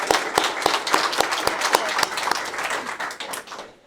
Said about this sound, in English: Round of applause for the Auxillary for putting this on today.